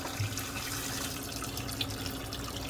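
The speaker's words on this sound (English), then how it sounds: "I'm going to use hot and cold water for this" Hot and cold tap water runs steadily into a sink while dishes are rinsed, a continuous splashing hiss with a few small clinks and drips and no talking.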